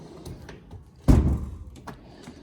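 A hammer drawer in a tool chest slides open with one sharp, loud thunk and a short rumbling slide, close to the listener, in an otherwise quiet garage.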